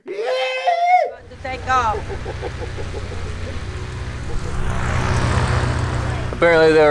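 A small propeller airplane taking off from a rural airfield near the Mississippi, its engine rising into a loud, sustained drone after someone speaks, growing steadily closer and stronger.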